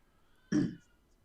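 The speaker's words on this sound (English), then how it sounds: "Somebody's got a happy cat." A cat crying from about two rooms away gives a single short muffled call, faint and distant, with no talking over it.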